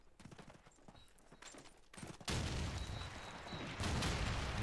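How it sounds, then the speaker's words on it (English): In a Call of Duty 2 multiplayer match, scattered gunfire clicks give way to two loud, close grenade blasts: a sudden heavy boom midway, then a second burst near the end, each with a lingering rumble. "Nades landing at A."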